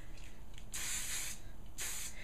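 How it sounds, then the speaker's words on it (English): Two long hissing bursts of hairspray from an aerosol can, close by, separated by a short pause over a faint steady background noise. "I'm going to go ahead and spray with hairspray."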